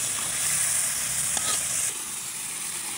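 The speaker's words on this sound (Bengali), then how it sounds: "এখন কিন্তু এই মশলাটাকে মাছগুলো একটু ভালো করে কষিয়ে নেব।" Sea rita fish sautéing in a spice masala in a pan, a steady close sizzle and fry with soft stirring, no voices.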